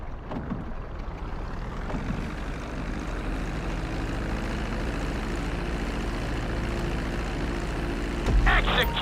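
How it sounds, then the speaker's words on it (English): Steady jet engine drone of a plane descending toward a runway in GTA V, constant and fairly loud throughout, a low mechanical hum with a brief rumble and rattle near the end. "reducing the plane's altitude gradually so you're just above the runway as you approach"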